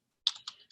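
A few quick, quiet keystrokes as numbers are typed on a computer keyboard, close and isolated in near silence.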